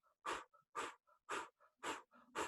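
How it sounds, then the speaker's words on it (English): A person does a forceful breathing exercise through the nose, five sharp rapid exhales in an even rhythm with soft brief inhales between them, close and clear. "So you're gonna breathe out of your nose 50 times, and it's a like a forceful exhale and then just a natural inhale."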